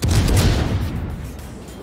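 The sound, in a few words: enemy cruiser gunfire in a naval video game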